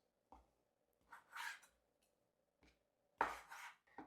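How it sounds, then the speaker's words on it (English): A knife cuts thin, sweet Italian sausage seasoned with fennel into 3-4 inch pieces. A few soft, separate slicing and tapping sounds come close by in an otherwise quiet kitchen. "cut up some sausage into like"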